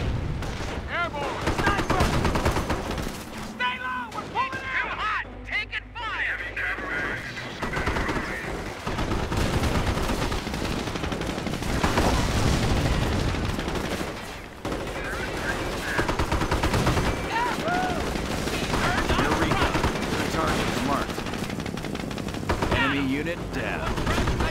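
Dense, continuous battlefield gunfire from Company of Heroes, with overlapping machine-gun bursts and rifle shots, occasional heavier booms, and shouted voices mixed into the near-constant combat noise.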